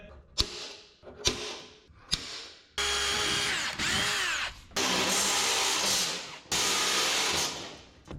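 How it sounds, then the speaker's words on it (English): A power drill bores holes out to 5/16 inch in the sheet metal of a 1963 Loadstar truck, first in a few short bursts, then in longer steady whirring runs, loud and close, with no talk. "Drilled all of our holes out to 5/16 where they had a little bit of slop on purpose."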